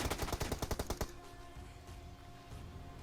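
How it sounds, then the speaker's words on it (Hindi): A rapid burst of automatic gunfire in the BGMI battle royale game, about a dozen sharp shots in quick rhythm for a second, then quieter game ambience with faint distant pops. "वो बंदा फायर करके मेरी हेल्थ गिरा देता है, तो मैं भी यहाँ पर थोड़ी फायर कर देता हूँ"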